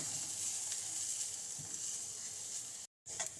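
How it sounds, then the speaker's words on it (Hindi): Thinly sliced onions fry in a pan for a restaurant-style chicken rice, a steady close hiss and crackle of oil that briefly cuts out near the end before resuming. "हम प्याज को थोड़ा सा पिंक कलर आने तक 1 से 2 मिनट फ्राई कर लेंगे"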